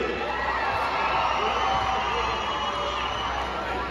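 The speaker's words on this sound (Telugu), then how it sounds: "గట్టిగా చప్పట్లు కొట్టండి" A crowd at a karate championship black belt award ceremony claps and cheers in a dense, sustained roar of applause, even and loud across the whole stretch, with some shouts mixed in.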